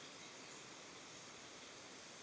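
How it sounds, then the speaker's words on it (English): A waterfall in the Scottish Highlands gives a steady, broad rushing roar of falling water, faint and continuous, with no voices. "I hear waterfall."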